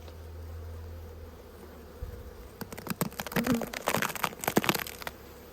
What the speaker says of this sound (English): A few bees up the top.